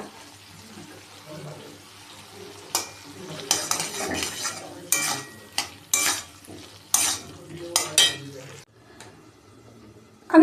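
Potato and tomato stir-fried with ginger paste in a pan: a soft background sizzle broken by a series of sharp, close spatula scrapes and clinks against the metal, coming in irregular bursts.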